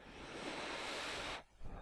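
Water waves in the video game RollerCoaster Tycoon 3, a steady broadband wash of surf that holds evenly, then cuts off abruptly before a brief louder return.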